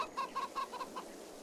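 Chickens in the farming video game Farming Simulator 22 give a short run of about five quick, soft clucks in an even rhythm, then fall quiet.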